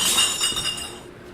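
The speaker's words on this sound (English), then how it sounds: "Terrifying clinking and clanking bursts through the darkness." Glass clinking and clanking in the dark, a burst of bright, rattling glassy impacts with a breaking quality that is loud at first and then thins out and fades over a second or so.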